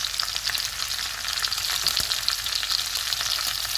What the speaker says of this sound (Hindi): अब इसको भूनेंगे 2 मिनट तक